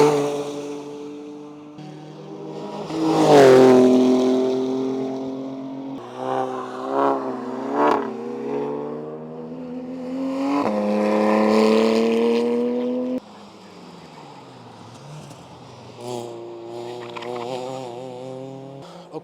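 Cars at a trackday lapping fast through corners, among them an Integra and Civics, with engines revving hard, rising and falling in pitch through gear changes and braking, fairly close and loud, no talking.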